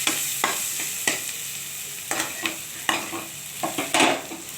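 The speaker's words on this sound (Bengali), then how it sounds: "খোসাটা দিয়ে এর সঙ্গেই ভালোভাবে ভাজা হবে।" Pointed gourd and potato peels fry with onion in a pan. A steady sizzle runs throughout, broken by irregular scrapes and knocks from a spatula stirring close by.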